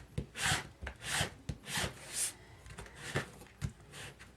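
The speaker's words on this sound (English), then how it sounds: "Let me varnish it." A brush stroking varnish onto a wooden car decal, a series of soft rhythmic swishes and rubs, close and quiet, about eight strokes in a steady back-and-forth pattern.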